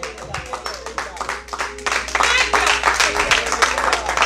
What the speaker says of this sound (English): Come on, clap those hands and give God glory.